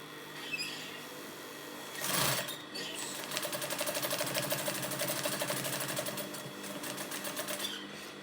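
A sewing machine stitches Thai trousers in a steady, continuous mechanical whir close by, with a short louder burst of handling noise early on.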